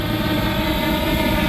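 Fimi Mini 3 SE drone flying in to land, its propellers giving off a steady, close, buzzing whine without break.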